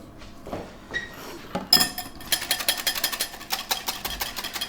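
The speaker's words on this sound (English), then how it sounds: "I'm going to whisk it up" A whisk whips cream with a little sugar in a bowl, first a few scattered clinks and taps, then a fast, regular run of rattling strokes against the bowl.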